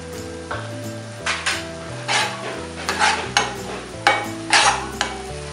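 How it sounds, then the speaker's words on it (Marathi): Thinly sliced onion with salt frying in oil: a constant sizzle under repeated rhythmic scraping stirs against the pan, close and fairly loud, with a low musical tone running beneath. "आपण हा जो पातळ चिरलेला कांदा आहे अगदी तांबूस रंगापर्यंत आपण त्याला फ्राय करून घेणार आहोत।"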